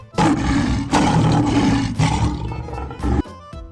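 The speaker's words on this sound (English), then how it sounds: "Right answer is lion." A lion gives a series of loud, close roars in powerful bursts with brief gaps, tailing off into lower grunting calls near the end, with no talk.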